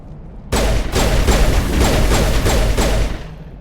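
Enemy gunfire in Mass Effect 1 Legendary Edition, a loud burst of rapid shots starting abruptly after a quiet half second, pulsing in about six repeated bursts before easing off.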